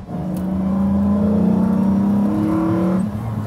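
A Lamborghini Diablo engine revs in a loud, steady, deep rising drone with clear harmonic layers, holding for about three seconds before the pitch shifts and eases.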